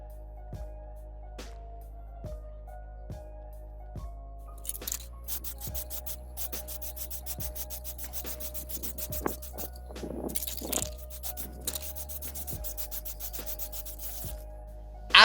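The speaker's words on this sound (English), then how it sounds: "I sanded it real hard till the batch was gone." A painted Armaggeddon MKA-3C keyboard case sanded hard by hand, with sparse taps early on and then a long stretch of dense, continuous rubbing and scratching, close and fairly loud.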